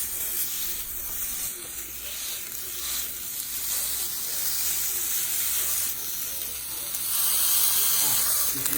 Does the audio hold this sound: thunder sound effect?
no